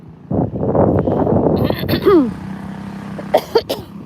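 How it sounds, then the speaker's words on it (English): A few harsh coughs from a nearby person, mixed with some talking, followed by quieter throat sounds over a low background hum. "I'm just coughing up a lung here."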